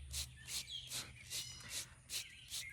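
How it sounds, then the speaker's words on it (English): Wild birds at a backyard feeder give bright, repeated chirps at a regular pace, about seven short calls in under three seconds, with fainter twitters between them and a low hum underneath. "And I welcome the birds to come and eat them."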